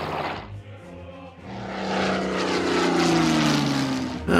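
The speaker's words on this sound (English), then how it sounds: "Now we land in this aircraft." Propeller warplane engine drone in the WW2 strategy game Order of Battle, rising and sustained as the aircraft comes in to land, loud and steady with a brief dip early on before the tone swells and holds.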